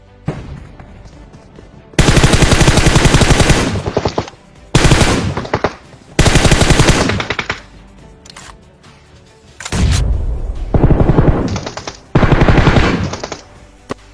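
Loud automatic gunfire from the PUBG Mobile video game in several long rapid bursts separated by short quieter gaps, sharp and close.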